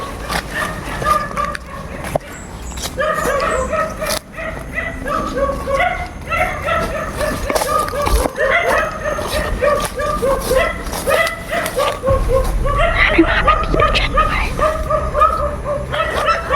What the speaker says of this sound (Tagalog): Ayan yung mga aso na.